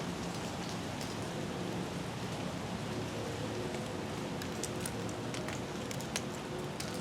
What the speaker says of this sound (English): That's just water from the trees from last night's rain.